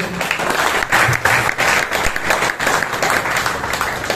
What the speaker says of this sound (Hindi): तालियां पुनः हो जानी चाहिए।